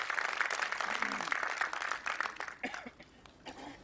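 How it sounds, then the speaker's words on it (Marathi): An audience at a book-of-records ceremony breaks into loud, sustained applause, a dense wash of clapping that holds strongly before thinning out toward the end. "एकदा जोरदार टाळ्या झाल्या पाहिजे"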